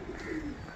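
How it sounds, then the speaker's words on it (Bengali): A single mature pigeon gives a brief, low, throaty coo, close and clear for under a second. "ধাড়ি পায়রা, খুব সুন্দর পায়রা একটা"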